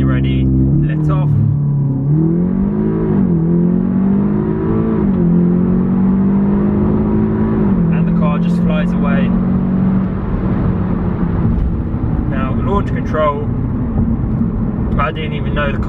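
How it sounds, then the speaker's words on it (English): An Audi S3 Saloon launches from standstill under launch control in sport mode, its engine note climbing steadily and shifting pitch through the gears, loud and close throughout. "so I'm going to do a quick launch control."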